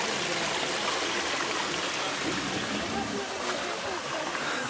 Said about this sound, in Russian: Источник родниковой воды.